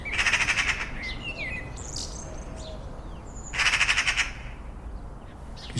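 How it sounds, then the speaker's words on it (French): Magpies give two loud, harsh rattling chatters a few seconds apart, near and outdoors, with faint chirps from other birds between them. "quelques pies."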